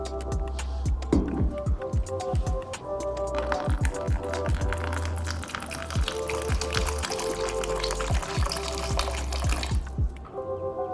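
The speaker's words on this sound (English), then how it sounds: "Pour the 500 milliliter distilled water into the conical flux." Distilled water poured into a conical flask, a continuous close trickle and splash with small drips and glassy clinks, moderately quiet, tapering off near the end.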